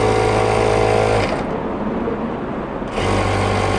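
An electric sewing machine runs in two quick bursts while stitching the inseam of trouser pieces with a one-centimetre margin, a rapid mechanical hum broken by a short pause.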